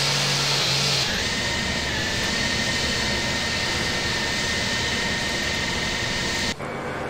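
Airliner jet engines in Microsoft Flight Simulator X, waiting in the cockpit near the runway: a steady loud whine and roar that shifts in tone after a second and cuts off abruptly near the end.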